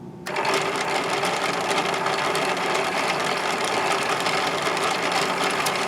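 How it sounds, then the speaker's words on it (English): Sewing machine winding thread onto a bobbin, a fast continuous mechanical whir starting abruptly and running steady and loud throughout. "push over to the left this bobbin winder tension dial, and it's going to start threading your bobbin"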